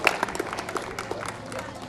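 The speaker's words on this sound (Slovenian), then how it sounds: "Dajmo en velik aplavz" Audience at an outdoor town-square event for a new refuse collection truck breaks into scattered clapping, moderately near, with crowd murmur and some talk over it.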